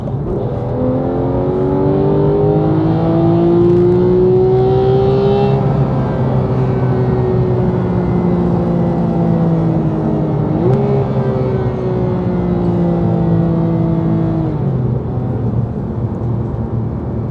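Loud, sustained in-car engine note from a Porsche GT3 accelerating and revving, rising in pitch with two gear shifts, heard alone without talk.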